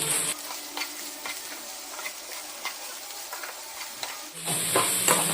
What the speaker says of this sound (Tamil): உப்பு சேர்த்து வெங்காயத்து கூட நல்லா வதக்கி விட்டுருவோம்